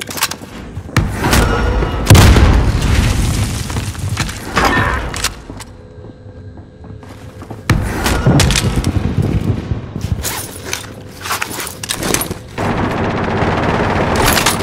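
Call of Duty Warzone combat with bursts of loud gunfire and a heavy booming blast, several dense volleys separated by brief quieter gaps, close and intense.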